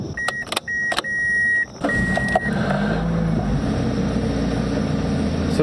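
A cold Toyota Matrix XRS with a rich-running fault code idles low and steady after a few electronic beeps and a clunk, its engine rumble holding close and continuous without a raised warm-up idle.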